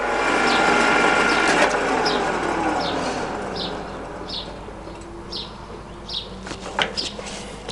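A Stankoimport 6P82W universal milling machine spindle runs at its lowest speed, a steady mechanical hum with a regular, softly repeating whirring pulse and some faint clanks later on.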